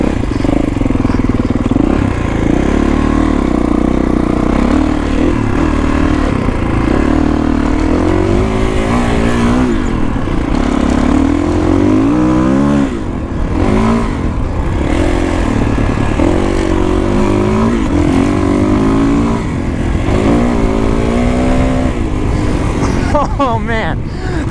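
A Kawasaki KX450X dirt bike rides desert trails, its engine roaring loud and close throughout with constant shifts in pitch as it revs, while a rider's voice speaks over it.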